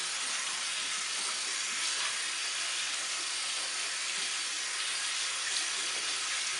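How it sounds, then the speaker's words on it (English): A running tap pours steadily over hands as climbing chalk is washed off the palms, a constant close hiss of water into a sink with no talking. "Wash all that chalk off your palms real good."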